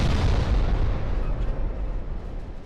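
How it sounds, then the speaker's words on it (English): Heavy 8-inch naval guns fire in the warship game Ultimate Admiral Dreadnoughts, a dense, loud, continuous rumble of overlapping booms with no pause throughout. "those 8-inch guns are tearing through this poor"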